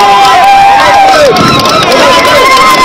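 A jubilant crowd lines the streets of Moundou, Chad, welcoming the head of state: a dense, loud, continuous hubbub of many voices, cheers and shouts carrying steadily throughout.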